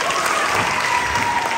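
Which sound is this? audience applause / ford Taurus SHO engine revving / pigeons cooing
audience applause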